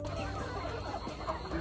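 Native Filipino backyard chickens, a five-month-old flock, clucking softly at dusk, scattered murmuring calls over a steady low background hum, fairly faint and without speech.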